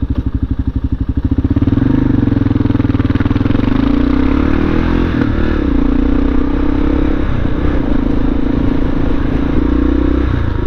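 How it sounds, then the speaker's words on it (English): A motorcycle engine with a loud, raspy aftermarket SuperTrapp exhaust, idling with a throbbing burble before settling into a steady, rumbling drone close by. "love how it sounds with this super trap"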